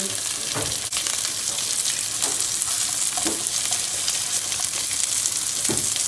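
Köfte meatballs fry in a single pot, giving a steady close sizzle with a few short louder spatters and stirring scrapes, with no talk over it.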